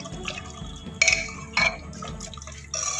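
Water poured into a pot of arbi (taro root) curry, with bursts of liquid splashing and filling at intervals over a low kitchen background, close and moderately loud, with no talking.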